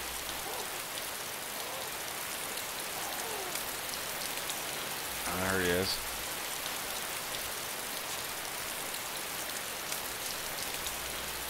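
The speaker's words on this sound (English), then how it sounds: "The rain's making it muffled." Steady rain falls in the DayZ video game, a dense, even hiss that fills the scene, with a brief voice cutting in once midway.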